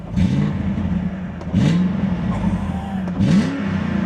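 A 1998 BMW E36 with a 4.4 V8 engine revs hard three times, each burst rising in pitch and dropping back to a throaty idle between them.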